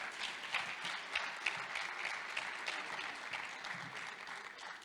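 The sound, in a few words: applause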